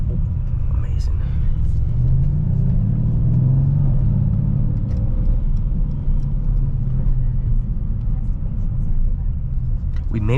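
A Mercedes-AMG car engine drives with a loud, steady low rumble and a rising note partway through, heard from inside the car on the way to a canyon run, with a person talking over it.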